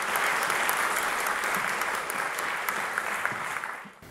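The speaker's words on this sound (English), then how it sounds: "Everybody give a big round of applause to Dr. Clifford Johnson." A large audience applauds steadily for a scientist being introduced at a talk, a dense, sustained clapping that fades slightly toward the end.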